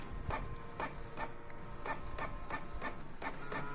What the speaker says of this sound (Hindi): पहले ब्लैक एंड वाइट प्रिंट करने के लिए कोशिश करेंगे